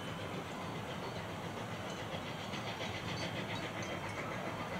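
A coal-burning steam locomotive approaches on the Furka line, a faint, distant, steady chuffing and rumble spread as a broad hiss with no voices.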